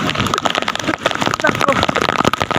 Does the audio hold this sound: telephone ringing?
no